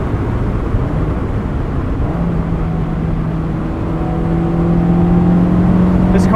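A 2005 Honda S2000 cruising in sixth gear at 3000 RPM, a steady low engine drone with a faint rising harmonic whine under heavy road and wind noise, continuous and close from inside the cabin.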